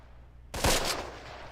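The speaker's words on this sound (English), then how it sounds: "Who's doing that shooting?" A sudden burst of gunfire in the WWII strategy video game Close Combat, one sharp loud crack after near silence with a quick rattle and a ringing tail.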